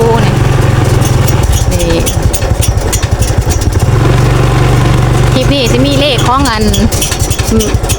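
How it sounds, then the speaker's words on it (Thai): Motorcycles travel along a rural road, a loud steady engine drone under continuous nearby talking. "มันก็มีรถมอเตอร์ไซค์มันยังแล่มาเรื่อยๆอยู่"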